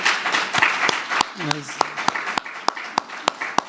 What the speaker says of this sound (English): Let's give a big applause for David particularly.